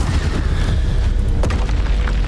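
A Bombarda spell explosion in Hogwarts Legacy during an ancient magic trial against a troll: a loud, heavy, continuous booming rumble with a few sharper cracks layered over the roar.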